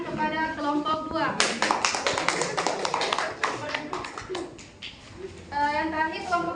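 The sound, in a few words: class clapping for group 2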